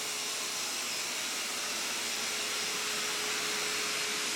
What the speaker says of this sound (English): Then just select go, and the vacuum will be dispatched to that location.